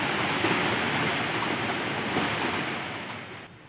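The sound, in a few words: heavy rain with stormy wind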